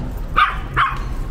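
A dog gives two short barks or yips about half a second apart, fairly close and moderately loud over a low background hum, with no talking.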